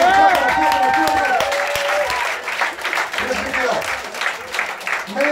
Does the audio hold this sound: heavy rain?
no